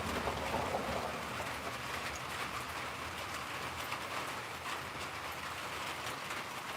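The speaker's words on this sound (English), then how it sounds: "I'm just thanking God we got the rain." Steady rain falling, a continuous broadband hiss that stays even and unbroken throughout, with no voices over it.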